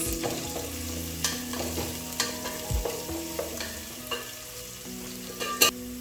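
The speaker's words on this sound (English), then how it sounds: "I'm going to fry these onions till they turn to golden brown" Onions fry in oil for chicken pilau with a steady, close crackling sizzle, while a spoon scrapes and taps the pan in quick, irregular strokes.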